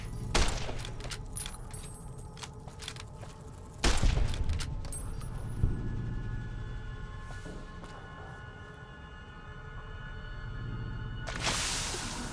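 Gunfire in Fallout New Vegas sounds as a few sharp, scattered shots, with a louder cluster near four seconds, over a faint background layer.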